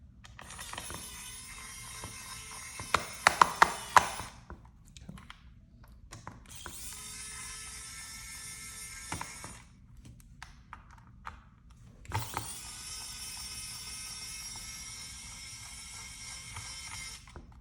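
Screws being driven out of an ROG Ally handheld gaming console with a powered screwdriver: three bursts of steady high-pitched whirring, each running several seconds, separated by short pauses and a few clicks, close and moderately loud with no talking.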